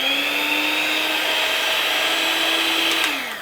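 An electric whisk whirs steadily through egg whites, a loud, close motorised whine holding one pitch before dropping as it slows near the end, with no voices.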